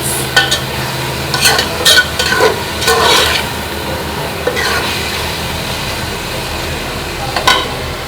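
Vegetables frying in a pan while being stirred, a continuous loud sizzle broken by repeated clattering scrapes of a utensil against the pan, close up with no talking.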